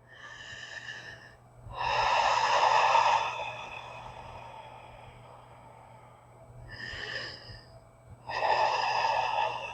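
Deep breaths drawn in and let out slowly during a seated chair yoga leg hold, about two long audible breath cycles, fairly close and clear with no talking.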